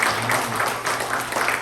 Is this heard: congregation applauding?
yes